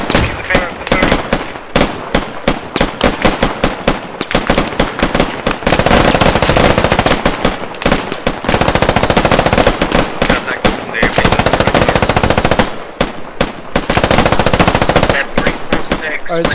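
Bursts of machine gun fire hammer at a compound in rapid, loud strings, some long and sustained, others short and choppy, with brief gaps between volleys.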